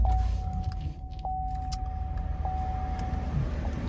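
A 2017 GMC Yukon Denali idles steadily after starting, a low continuous engine rumble with a faint tonal whine, heard from inside the cabin with a few small clicks.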